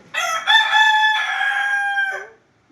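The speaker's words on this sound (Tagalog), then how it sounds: "Ang ingin ng manok" A rooster crows once, loud and close, a drawn-out cock-a-doodle-doo ending in a falling note, with no other sounds around it.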